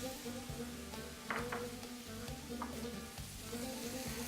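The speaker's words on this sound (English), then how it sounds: "you can hear that the pan's hot, everything's sizzling" Steady sizzling and frying in a hot pan, with occasional stirring scrapes as chopped baby zucchini goes in, close and continuous with no talking.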